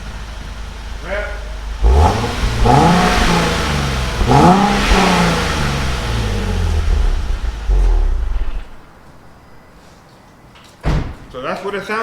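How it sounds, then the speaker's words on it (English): Nissan 370Z on its stock exhaust, revved hard up close in three rising, roaring sweeps that settle back toward idle, followed by a quieter stretch and a single sharp thump near the end. "Alright, so I'm gonna give you guys what the car sounds like right now."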